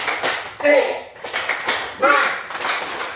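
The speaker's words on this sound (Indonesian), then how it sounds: "Tepuk semangat." Primary school class doing a patterned spirit clap (tepuk semangat) during a teaching-practice lesson; short bursts of clapping in rhythmic groups, with children's voices chanting along between them.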